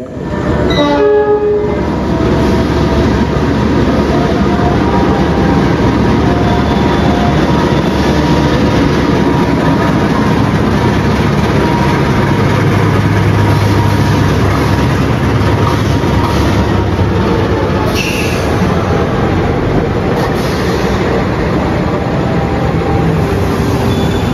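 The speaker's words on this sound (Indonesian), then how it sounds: "ada pengumuman kereta api Jayabaya akan masuk di jalur 3 stasiun Pemalang" Jayabaya passenger train pulling into Pemalang station, a loud continuous roar of wheels and carriages rolling close by, with a brief horn blast at the start and rhythmic rail clatter throughout.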